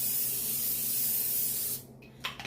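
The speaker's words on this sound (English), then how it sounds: "So, I always get to spray the pan, okay?" Cooking spray hisses in one long, steady burst onto a glass baking pan, up close, then cuts off, followed by a couple of faint clicks and handling sounds.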